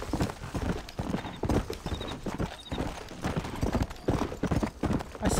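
Horse hooves in the Red Dead Redemption video game, a quick, steady clip-clop of galloping that stays close and loud throughout.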